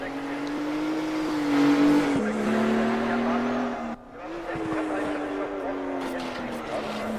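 A race car in a PHSR Widowmaker Series round accelerates down the long straight, its engine note droning steadily and rising, dipping briefly at a gear change before climbing again, with a commentator talking over it.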